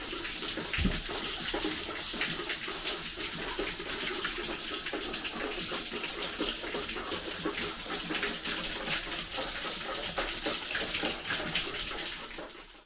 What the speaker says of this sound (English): burst boiler just spurting out water there